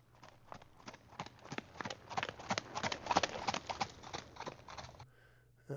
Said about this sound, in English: this is animal horse